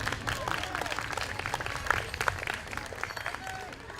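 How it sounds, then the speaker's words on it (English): Outdoor crowd applauding a young girl at a Native American dancing event, a modest scattered clapping under crowd murmur and voices, moderately distant. "give her a round of applause right there"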